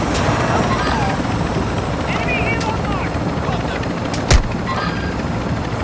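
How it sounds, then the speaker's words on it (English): A player-controlled helicopter flies overhead in an online shooter game, its rotor chop a constant rumbling wash beneath the game sounds, with a single sharp crack near the end. "Player chopper above."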